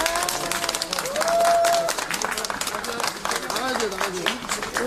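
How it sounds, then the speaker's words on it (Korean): Crowd applause rises at an outdoor campaign visit to Garak Market in Seoul, a dense burst of clapping mixed with cheering voices and chatter that continues throughout. "박수!"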